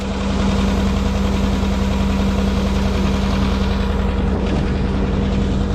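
A machine grinding corn on a farm runs steadily and loudly, a constant mechanical drone with a throbbing engine hum that stays even throughout with no talking.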